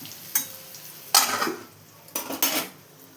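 Metal lid clanks set onto a pan of bitter gourd curry cooking on low heat, a few separate knocks and scrapes of cookware close by, with no talking.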